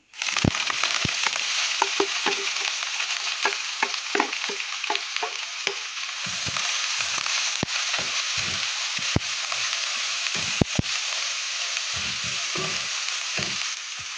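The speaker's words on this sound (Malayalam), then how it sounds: "നമ്മൾ അരിഞ്ഞു വെച്ചിരിക്കുന്ന ഉള്ളിയും പച്ചമുളകും കരിയാപ്പിലയും കൂടെ ഇട്ട് അതൊന്ന് ജസ്റ്റ് വഴറ്റിയെടുക്കുന്നു" Chopped onion, green chili and curry leaves sautéing in a pan for a banana flower and cowpea thoran, a loud continuous sizzle with sharp crackles and intermittent stirring scrapes throughout.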